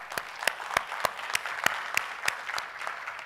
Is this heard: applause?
yes